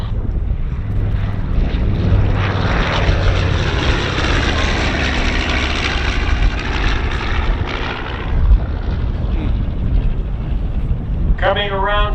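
Douglas C-53, the military DC-3, its propeller engines roaring in a long, steady, loud drone at an outdoor World War II airshow, with wind buffeting the microphone throughout.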